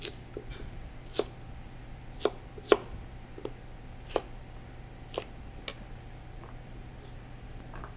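A knife chops food on a board into eighths during prep for a Mediterranean branzino dish, with about a dozen crisp, separate cuts at an uneven pace over quiet room tone.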